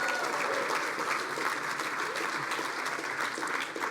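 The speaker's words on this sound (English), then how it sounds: "Let's give a final round of applause to our MC, Rocio Sanchez" Gala audience at an Urban Heroes Award benefit applauding the MC, sustained steady clapping from a large crowd heard at moderate level throughout, tapering only slightly at the end.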